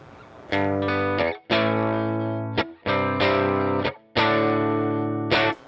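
Electric guitar played dry through an amplifier with no boost pedal engaged: four loud, sustained strummed chords ring out in turn, each separated by a brief gap, with no voices.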